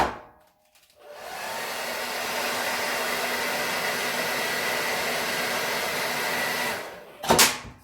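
A steady, loud blowing roar of a heat gun heating small bits of plastic runs for several seconds after a brief silence, then cuts off with a short clatter at the end.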